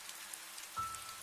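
Heavy rain shower in a horror cartoon, a steady hiss of falling water that swells suddenly near the end with a low rumbling burst, fairly faint and alone without voices.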